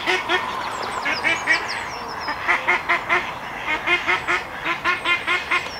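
Ducks quack repeatedly at a course fishing lake in spring, a rhythmic series of loud, close honking calls over a steady outdoor hiss.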